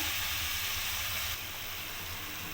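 Ginger, tomato and green chili paste frying in a wok for vegetable khichuri, a steady broadband sizzle and hiss that drops slightly in level partway through, close and continuous with no talk.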